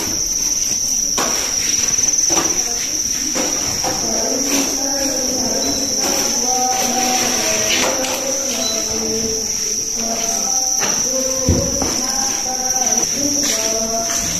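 Farmed crickets in a breeding enclosure chirp in a continuous high, shrill trill, loud and close, with scattered rustling and tapping knocks underneath.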